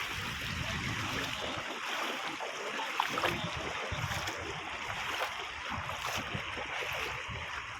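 Floodwater spreading over submerged rice paddies in Murshidabad, West Bengal, makes a steady broadband wash of flowing, trickling water with a light wind layer, continuous and fairly even throughout with no voices.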